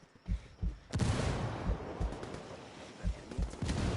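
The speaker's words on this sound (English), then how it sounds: "Under heavy fire." Heavy gunfire in the tactical shooter game Ghost Recon Ghost War: a dense, sustained barrage after a few sharp opening shots, with repeated loud bursts continuing throughout at close range.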